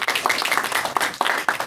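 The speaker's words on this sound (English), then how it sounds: "Round of applause." An audience at a comedians' debate gives a round of applause, a steady, dense wash of many hands clapping, fairly loud and sustained across the moment, with no speech over it.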